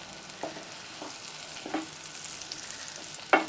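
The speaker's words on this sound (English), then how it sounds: "saute over a medium to high heat for about 3 to 4 minutes" Onion sautéing in a pan over medium-high heat for broccoli and Stilton soup: a steady soft sizzle with a few louder stirring scrapes, the sharpest one near the end.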